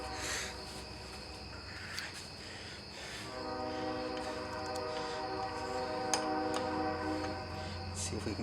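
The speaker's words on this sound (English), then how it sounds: "yeah, you can hear the train in the background." A train rumbles past in the background with sustained horn-like tones, heard continuously under light clicking and workshop noises from building a post vice stand.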